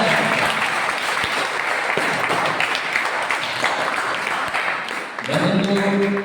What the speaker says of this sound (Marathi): अशा धाडशी व्यक्तिमत्व असलेल्या सरकारांसाठी एकदा जोरदार टाळ्या घ्या